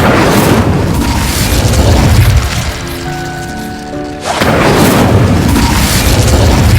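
Incendio fire spell cast in Hogwarts Legacy, a loud roaring blast that fills the moment, drops briefly to a quieter stretch with a faint tonal chime, then surges back into a heavy rumbling burst.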